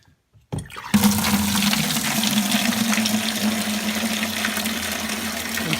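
Water rushes through an opened valve on a saltwater aquarium setup, starting suddenly after a quiet moment and then running as a steady, close gushing flow with a low hum underneath.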